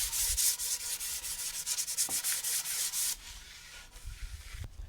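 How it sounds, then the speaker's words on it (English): Hand sanding of dried wood on a stairwell, done lightly with sandpaper: a close, continuous rhythmic rubbing and scratching with quick back-and-forth strokes, easing off toward the end. "I'm sanding everything one more time, but very lightly"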